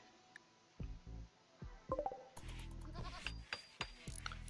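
Goats in the video game RimWorld bleat in short, separate nasal calls, several in a row with gaps between them, over quiet game background sound and without any talk.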